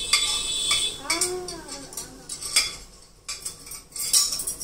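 A metal spoon clinks and clatters against dishes and pots in a home kitchen, several sharp separate knocks and rings spread over a few seconds, close and fairly loud.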